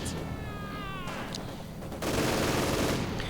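An MG42 machine gun fires during a video game battle, the rattling bursts dense and sustained, swelling louder in the second half among the surrounding din of combat.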